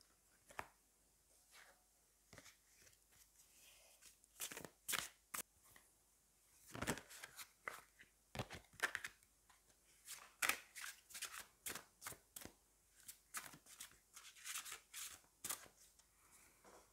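Tarot cards riffled and shuffled by hand, then a card drawn, with bursts of crisp flapping and snapping in irregular clusters, close and fairly soft, no talking.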